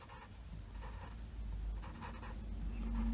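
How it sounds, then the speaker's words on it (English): A blending stump rubs colored pencil or ink color into paper, giving soft, faint, close scratchy strokes that repeat in quick passes with no voice. "I'm going to come in with my blending stump, and I'm just going to shoosh that color out just a little bit to get it down into the paper."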